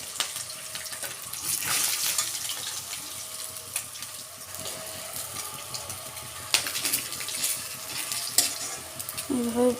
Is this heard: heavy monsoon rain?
no